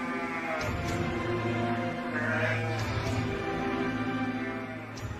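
Sheep bleat repeatedly on a farm with a flock of several hundred head, overlapping calls steady and fairly close, filling the whole stretch.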